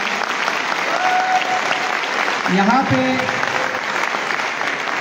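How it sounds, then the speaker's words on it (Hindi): Loud, sustained applause from an audience for a guest invited on stage at a company event, a steady wash of clapping throughout with a voice speaking briefly over it. "सर के लिए भी जोरदार तालियां चाहूंगा"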